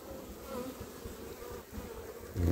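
Honeybees buzz steadily over an open brood frame as a calm colony is inspected, a close, continuous hum with a louder swell near the end.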